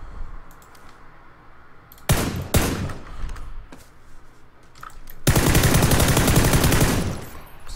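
Shooter video game gunfire: a couple of sharp single shots early, then a sustained loud automatic burst lasting a few seconds near the end, with quieter game ambience between.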